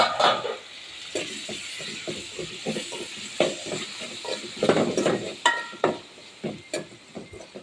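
Four chopped tomatoes go into a pan of onion and ginger garlic paste for a seafood curry. A steady oil sizzle runs throughout, with repeated scraping and stirring knocks from a spoon against the pan, fairly close.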